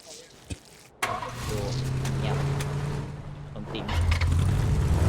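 A car engine in the video game PUBG Battlegrounds drones steadily at close range after a brief click, swelling louder toward the end as it revs.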